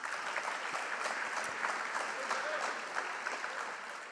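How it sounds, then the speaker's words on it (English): A school awards ceremony audience applauds a tenth-grade student honored for perfect attendance, a continuous wash of many hands clapping, fairly distant and soft in a large room. "So give him a round of applause."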